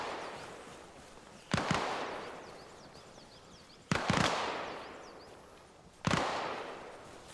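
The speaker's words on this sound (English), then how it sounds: "there is a guy shooting at us" Gunfire in Arma Reforger on PS5 Pro at Arland in a combat ops match: three separate sharp distant shots spaced a couple of seconds apart, each followed by a long rolling echo, with no voices.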